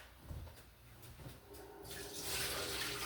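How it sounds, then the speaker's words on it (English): Soaking water poured off pinto beans, a soft splashing trickle that swells into a brighter, louder gush of running water near the end, fairly close and quiet overall. "So I'm gonna pour the water out"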